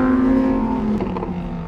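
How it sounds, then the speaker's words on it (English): 2020 Lamborghini Huracan Evo Spyder V10 running with the top down on deserted California switchbacks, a loud, close, sustained engine drone whose pitch shifts and settles as the revs change. "10 cylinders blasting up and down here the way the world is"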